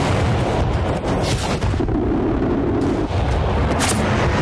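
Air strike gun run in Battlefield Bad Company 2, a continuous heavy rumble of rapid cannon fire and blasts, loud and sustained, with no clear separate shots.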